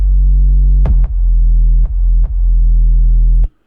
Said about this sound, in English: Then I have a sub, which is cut up down here to modulate with pitch.